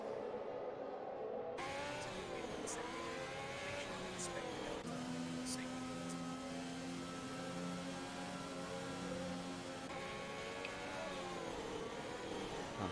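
A safety car pulls away from the bunched field in the F1 2021 racing game at the Chinese circuit. Engine whine rises and falls steadily throughout, with a commentator talking over it.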